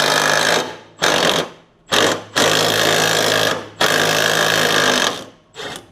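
Impact wrench removing mower blade bolts on a John Deere L110 lawn tractor, loud close hammering bursts of about a second each, repeated several times with short gaps between.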